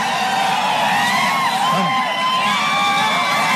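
A large political rally crowd in Dharashiv at an Uddhav Thackeray meeting roars and cheers in a dense, continuous wall of voices, with whoops and shouts rising above the steady din.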